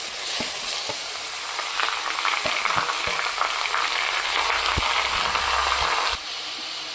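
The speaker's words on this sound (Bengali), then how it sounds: "আমি বিটগুলো এবার ঢেলে দিই।" Beetroot tipped into hot oil with crushed dried chili and garlic hisses into a loud, dense sizzle, dotted with a few clinks of utensils, steady and close until it abruptly drops to a quieter hiss near the end.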